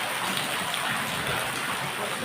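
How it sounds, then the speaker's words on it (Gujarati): Rain falls steadily during a monsoon afternoon, a constant broadband wash of patter with no breaks, fairly loud and close. "વરસાદ વરસી રહ્યો છે."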